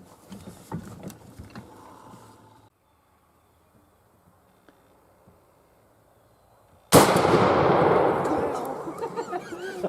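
A Stevens .410 turkey shotgun fires once outdoors with a sudden loud blast that rings and decays. Quiet stretches and faint talk come before the shot.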